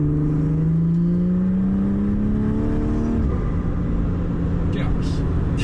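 A BMW 340i with the B58 engine and a Stage 2+ tune pulls hard under acceleration, its loud, close engine note climbing steadily through the revs, then settling into a steady rumbling drone.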